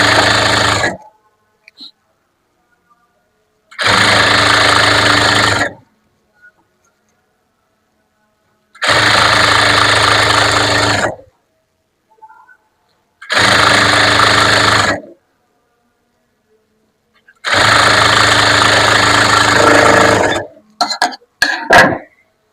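An electric sewing machine stitches the folded half-inch hem of a chudidar in five loud, close runs of about two seconds each, separated by silence, with a few sharp clicks at the end.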